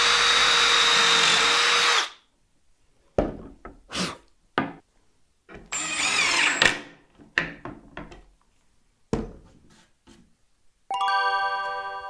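Power drill boring countersink holes in wood for woodworking, a loud sustained whine for two seconds, then quieter scattered knocks and handling clatter, with a brief whirring burst at the end; no talk.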